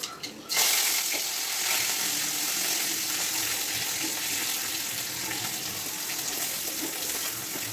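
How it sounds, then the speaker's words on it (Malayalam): Mustard seeds and curry leaves hit hot oil, setting off a loud, steady sizzle that starts within the first half second and crackles on without a break, with no voices. "അതിലേക്ക് എണ്ണ ഒഴിച്ച് കൊടുത്ത് കടുകും കറിവേപ്പിലയും കൂടെ ഒന്ന് ഇട്ട് കൊടുത്തിട്ടുണ്ട്"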